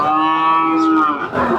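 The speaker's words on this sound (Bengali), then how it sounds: "এখানে অসংখ্য পরিমাণে বকনা বাছুর দেখতে পাচ্ছি।" A heifer calf at a cattle market gives one loud, close, drawn-out moo lasting over a second, with no talking over it.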